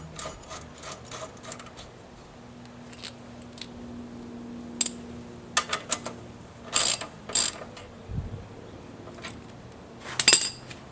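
Socket wrench tightening a bolt with spacer and washer into a motorcycle shock tower, producing short ratcheting clicks and metallic clacks in scattered bursts, close and moderately loud against a quiet background.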